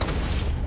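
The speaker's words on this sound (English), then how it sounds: "I'm gonna rocket launch." A rocket launcher explosion during a zombie apocalypse game in Minecraft: one deep, rumbling boom that fills the short moment and stays low and heavy throughout, with no voices over it.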